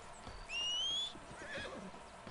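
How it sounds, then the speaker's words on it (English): A horse in Red Dead Redemption II gives a short, high whinny that rises then trails off, followed by faint hoof clops and a soft snort, with quiet game ambience behind and no talk. "Look at my horse. It's just chilling."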